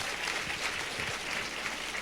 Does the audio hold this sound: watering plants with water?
no